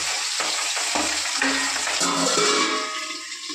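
Pabda fish sliding one at a time into hot oil, frying with a steady loud sizzle and spatter that stays dense throughout, with occasional scraping clinks from a spatula.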